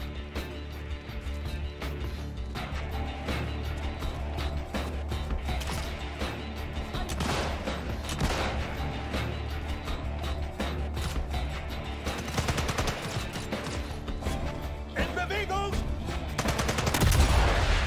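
Gunfire in Sniper Elite 5 invasion mode on PS5, a dense, loud game soundtrack with repeated shots and mechanical clatter running steadily throughout, swelling louder near the end.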